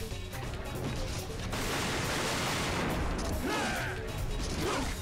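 Gunfire in a boss fight in Devil May Cry 2 comes as a continuous, loud clatter of shots and impacts, with a few sharper bursts near the end.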